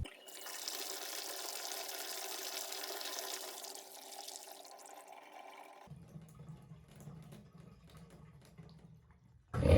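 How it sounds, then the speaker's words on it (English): Water from a bathtub tap runs in a steady rushing stream for several seconds, then cuts off, leaving a quieter gurgle as the tub drains after a clog is cleared. Near and clear, with no talking. "I'm going to turn on the water and test it."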